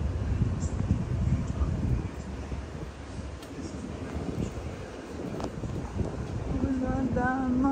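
Gusty wind rumbles and buffets the microphone outdoors while people talk over it.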